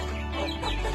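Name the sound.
Javanese ducklings about 20 days old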